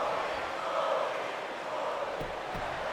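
A WWE 2K19 wrestling crowd cheers as the bell rings, a steady, moderately loud wash of massed voices with a couple of faint thumps near the end.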